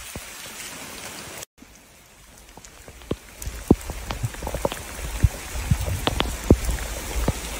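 Heavy rain pours down at a flooded dog shelter, a dense steady hiss with scattered louder drops splashing nearby that grows more intense after a brief break.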